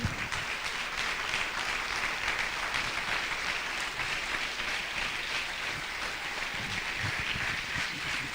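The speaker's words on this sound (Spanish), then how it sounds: "Dale un aplauso al que vive." Steady applause from a church congregation fills the space for about eight seconds, dense hand clapping at even loudness with no one speaking over it.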